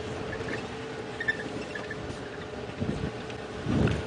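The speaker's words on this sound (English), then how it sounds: "the amount of wind that is gusting" Gusty wind buffets the microphone on an evening safari drive, a low rumbling roar that swells and surges in uneven bursts, loudest near the end, with faint vehicle noise beneath.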